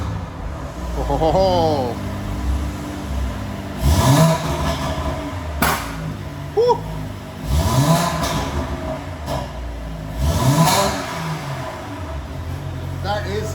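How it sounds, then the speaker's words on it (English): A BMW M340i fitted with a customized, extra-loud Emitrix exhaust revs repeatedly in sharp blips, each rising roar followed by crackles and a settling idle, close and loud, with brief exclamations from a person in between. "you'll also have to hear the insane loud Emitrix exhaust."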